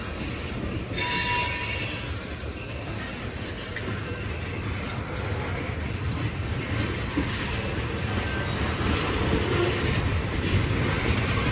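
Union Pacific freight train with a tanker car rolling out of the Hull Ave yard, steady loud rumble of wheels on rails with sharp high wheel squeal near the start, continuous throughout.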